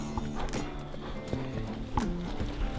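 Horses' hooves clop at a walking pace, close by, during a moose and caribou hunt in British Columbia, with a few scattered voices murmuring in the background.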